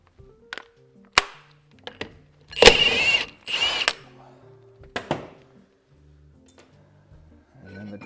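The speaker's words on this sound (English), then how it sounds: "You need to remove your axle nut." A 36mm axle nut being removed from a classic VW swing axle brings sparse metallic clanks and ratchet clicks, with a couple of louder scraping bursts between quiet pauses.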